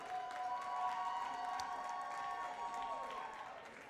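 Audience at an awards dinner gives a sustained round of applause for award recipients, a steady, moderately distant wash of many hands clapping with crowd murmur and faint music-like tones underneath.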